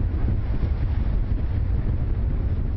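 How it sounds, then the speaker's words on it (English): Strong winter wind blowing off the water buffets the microphone in a continuous loud, rumbling roar. "the winter wind blowing off the water was particularly brutal"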